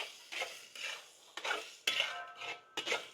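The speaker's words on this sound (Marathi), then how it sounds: "व्यवस्थित परतून घेऊ।" Metal spoon stirring and scraping biryani gravy with kasuri methi and chopped mint in a pan, producing several separate scrapes and clinks at an irregular pace, with faint sizzling between them and no talk.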